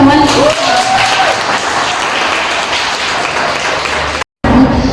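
An audience applauds a singer, dense steady clapping filling the room at close range, with a brief cheer rising early, then cutting out abruptly near the end before resuming.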